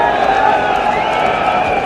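A huge crowd of Indian supporters roars and cheers at the 1983 World Cup cricket semifinal against England, a dense, steady wash of noise under a commentator's voice.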